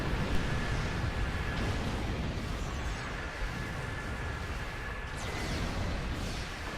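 Energy weapon fire from the Folian web cannon in the space combat game Star Trek Online, a dense continuous roaring barrage of blasts and rumbling bursts that runs throughout at steady loudness with no talk.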